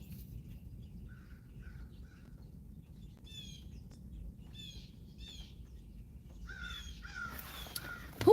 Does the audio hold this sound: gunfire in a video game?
no